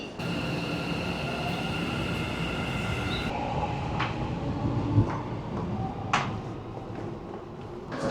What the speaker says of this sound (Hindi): तो आ गई भाई हमारी ट्रेन